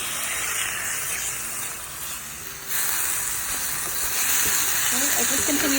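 Chicken dusted with garlic powder sizzles steadily in a hot pan, a broad continuous hiss with occasional scraping as it is stirred, the frying growing slightly louder partway through.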